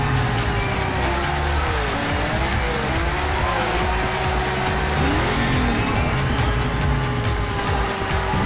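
Race car engines whine and shift pitch steadily in the video game Bang Bang Racing, with sweeping revs, tire squeal and skids over a dense, loud rumble and no talk.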